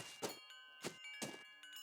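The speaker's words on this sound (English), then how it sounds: "These wind chimes are so freaking loud." Wind chimes in the video game Nancy Drew: Ice ring out in three bright metallic strikes at roughly even intervals, each leaving a shimmering, sustained tone that hangs between hits, fairly quiet overall.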